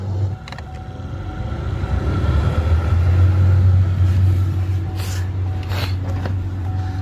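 A Chevy Cruze blower motor hums steadily after being jolted into running with a quick tap, a low continuous whir with a faint tonal whine that swells and holds for several seconds, plus a few light clicks.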